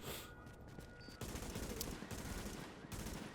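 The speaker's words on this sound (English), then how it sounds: "Oh, I'm hearing gunfire." Gunfire in Tom Clancy's The Division, a dense fusillade of overlapping shots and bursts that runs continuously, loud and near, with no talk.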